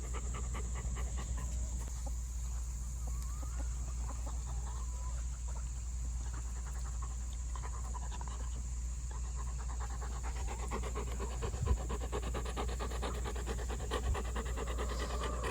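A farm dog pants steadily near chickens on a homestead, a faint rapid breathing rhythm over a constant background hum with occasional soft bird sounds.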